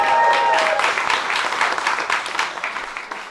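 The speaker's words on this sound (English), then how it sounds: "Can I get a massive round of applause for these people?" Applause from an audience for volunteers who clean graffiti in London, a dense wash of clapping that starts loud and thins slightly as it goes on.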